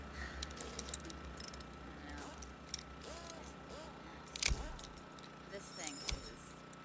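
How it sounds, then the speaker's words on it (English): A ratchet wrench works on a motorbike in the video game Days Gone, with a run of quick mechanical clicking and gear-like ratcheting, a sharp metallic knock partway through, and a soft ambient bed underneath. "Where the hell's my ratchet wrench?"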